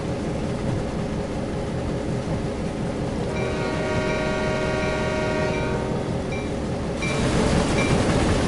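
A train in the Train Sim World game rolls past with a steady rumbling wheel roar, a sustained horn-like tonal blast rising in the middle, then a sharper clatter at the end.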